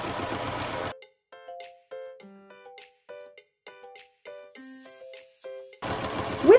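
Free motion quilting on a sewing machine comes through as rapid, even mechanical stitching close by. It stops after about a second, leaving near silence with faint tones, then resumes at the end.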